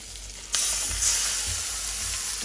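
Meat dropped into a pan of frying spices, setting off a loud, close, steady sizzle with a sharp burst at the moment it lands, continuing without voices.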